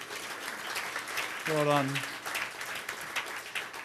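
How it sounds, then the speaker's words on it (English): Applause from an audience in a conference room at the close of a workshop day: steady clapping throughout, with one voice briefly speaking over it. "Give yourselves a round of applause for today."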